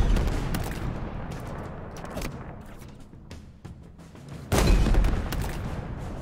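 Dense gunfire in the shooter Halo Infinite, with rapid bursts and heavy automatic fire running throughout and a sharp louder volley near the end, with no talking.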